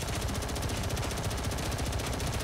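A fast, continuous rattle of automatic fire at an enemy ship in Space Engineers hammers on without pause, dense and steady at moderate volume.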